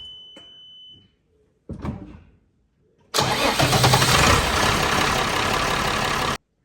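A 7810 tractor's 6.6 litre straight-six diesel gets a short beep, then a brief burst of cranking and a pause, before it catches and roars into a loud, steady running note that cuts off abruptly.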